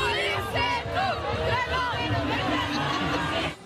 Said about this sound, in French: Voilà ce qui était scandé par la foule